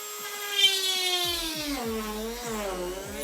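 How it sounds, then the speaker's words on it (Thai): A mini hand drill spins up at speed setting four and bores into material, a steady high-pitched whine with rising and falling pitch and brief bumps as the bit bites, close and fairly loud with no talking. "เราจะเอาความแรงสักประมาณ สี่แล้วกันแล้วก็เปิดสวิตช์ แล้วก็ทำการเจาะไปครับผมตัวนี้"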